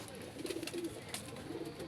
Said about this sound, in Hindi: इन कबूतरों में इसकी जान बसी हुई इनमें। ये है मुजाहिद भाई के कबूतर